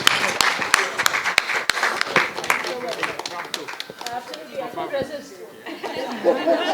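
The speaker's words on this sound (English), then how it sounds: "I think another round of applause is necessary." A crowd claps steadily in a warm, sustained burst of applause, with chatter and a few voices mixed in throughout.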